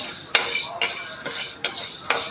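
Metal utensils clink against a bowl as spices for a ginger-mango pickle are moved into it, giving four or five sharp, separate taps over a soft, quiet background.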